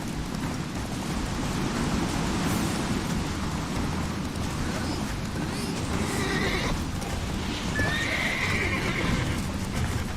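In The Witcher 3 video game, a horse gallops with steady hoofbeats and gives a couple of neighs amid rain and game ambience, fairly quiet overall.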